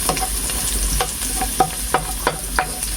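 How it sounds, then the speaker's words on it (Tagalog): Garlic sautés in a hot pan for ginataang balonglong, a steady oily sizzle with light stirring scrapes and a few sharper ticks, close and continuous throughout. "at gigisa na po natin itong ating bawang"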